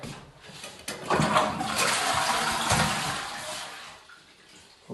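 A newly installed toilet flushes, a loud rushing gush of water that builds quickly, holds for a few seconds, then tapers to a softer trickle and refill.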